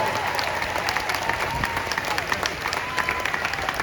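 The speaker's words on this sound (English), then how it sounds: "Will you join me in giving them a huge round of applause?" A large audience at the Indiana Jones stunt show at Disney's Hollywood Studios gives a dense, steady round of applause with scattered cheers, loud and sustained throughout.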